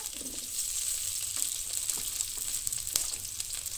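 Ginger, garlic and chillies fry in oil in a pan for a chicken gravy, giving a close, continuous crackling sizzle with a few faint spoon clicks.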